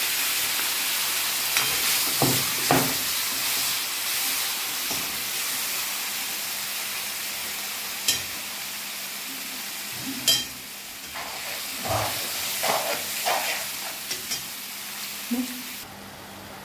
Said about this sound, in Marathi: पाण्याला छानपैकी उकळी आलेली आहे आणि छान असं तेलही सुटलेलं आहे